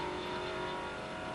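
Two 427-powered pony cars in a drag race, a steady distant engine drone with sustained tonal whine, fairly quiet and unbroken throughout.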